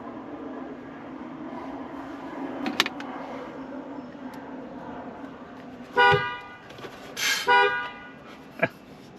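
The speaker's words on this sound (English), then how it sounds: "if you push on the horn, it's gonna honk" Horn of a Toyota Tundra honks from inside the cab: a few short, loud blasts near the end, the first one single and then a quick double, over a low steady background hum.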